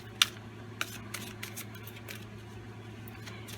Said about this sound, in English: These cards are really broken in, so I'm able to side shuffle with ease.